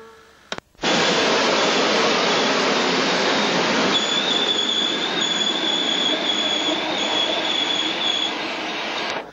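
An express train running Lecce to Milan in Italy in 1995 rumbles steadily along the rails with a loud, sustained roar, a high metallic wheel squeal joining partway through.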